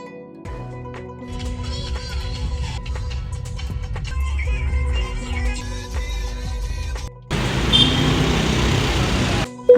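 Steady low road rumble of a car driving, with a louder, rougher stretch of tyre and road noise near the end; no talking.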